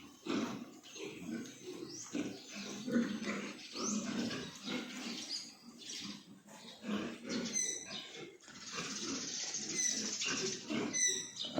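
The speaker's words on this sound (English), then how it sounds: "All the pigs are fed" Pigs on a farm grunt, squeal and snort in overlapping bursts, fairly close and moderately loud, with a busy, uneven rhythm and no speech.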